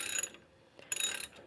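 A ratchet wrench turns loosely without tightening, giving two short bursts of quick clicking, very faint and close.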